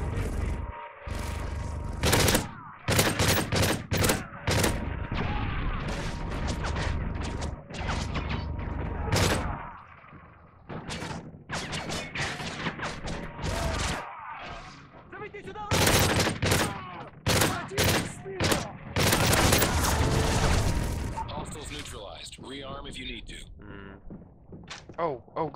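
Gunfire in Modern Warfare 3 Survival mode on the Resistance map, played solo: dense, rapid bursts and volleys of shots with heavy thuds that recur throughout, pausing briefly, with voices mixed in.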